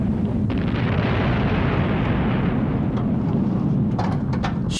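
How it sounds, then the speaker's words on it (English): A big movie explosion from Superman III rumbles as a dense, sustained roar filling the whole stretch, loud and continuous with a few sharp crackles near the end. "That was a nice explosion."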